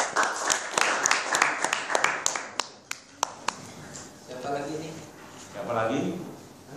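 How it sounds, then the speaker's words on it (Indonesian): A small audience at a thesis proposal simulation gives scattered hand claps for a presenter, sharp and close for a few seconds before dying out as people start talking. "kita beri aplaus untuk"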